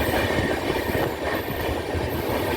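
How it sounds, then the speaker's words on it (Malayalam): Alappuzha–Kollam passenger train at Munroe Island station in Kerala, a steady close rumble of rolling railcars with faint clickety-clack and slight wheel squeal, continuous and alone without voices. "മൺറോത്തുരുത്ത് റെയിൽവേ സ്റ്റേഷനിൽ വെച്ച് ആലപ്പുഴ കൊല്ലം പാസഞ്ചറിനെ കണ്ടുപിടിക്കുകയാണ്"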